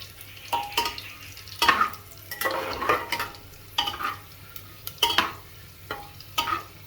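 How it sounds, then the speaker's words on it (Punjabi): Whole coriander and whole spices fry on low flame in a pan for chicken masala, with repeated scraping stirs and soft clinks over a low sizzle, close and without speech. "ਲੋ ਫਲੇਮ ਤੇ ਥੋੜਾ ਜਿਹਾ ਪਕਾਵਾਂਗੇ ਇਹਨਾਂ ਨੂੰ"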